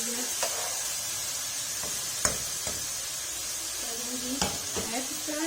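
Eggs frying in a pan at home during preparation of a vegetable rice dish, a constant bright sizzle with scattered pops and utensil taps throughout.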